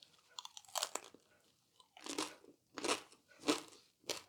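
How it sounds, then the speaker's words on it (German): A crispy air-fried chicken nugget is bitten and chewed up close, with about five distinct crunches in an uneven rhythm and quiet pauses between them. "Ich muss ja einen Knuspertest machen."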